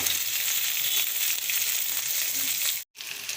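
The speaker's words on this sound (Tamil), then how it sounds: "ரெண்டு வெங்காயம் நல்லா வதங்கட்டும் ரெண்டு பச்சை மிளகா" Sliced onions and green chillies sauté in hot oil in a pan, a loud, steady, hissing sizzle that fills the space, broken once by a very brief silent dropout near the end.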